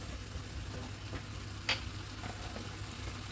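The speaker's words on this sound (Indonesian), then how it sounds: "jahe, daun salam, serai, dan daun jeruknya. Kita tumis bersama-sama." Ginger, bay leaves, lemongrass and lime leaves are sautéed together in a pan, giving a soft, steady sizzle with a faint clink of stirring, quiet and without talk.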